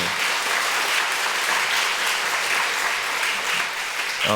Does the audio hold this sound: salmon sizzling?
no